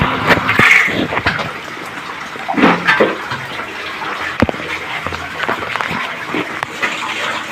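Spring water flowing and splashing in an underground gold mine near Baguio, a steady close wash with intermittent splashes and knocks, with people talking and calling out over it.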